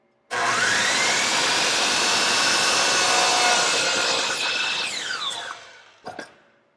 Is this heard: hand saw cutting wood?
yes